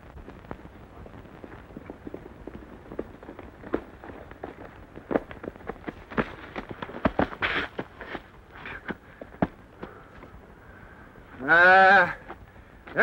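A cattle stampede in a 1943 Western film, heard as a stream of sharp cracks and thuds, like gunfire and running hooves, building in density, with a loud drawn-out animal bawl near the end.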